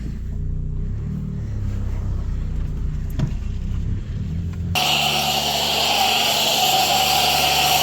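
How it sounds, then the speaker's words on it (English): A Saab 9-3 engine idles just after starting, a low steady hum throughout, later joined by a loud broadband hiss. "Alright, car started up."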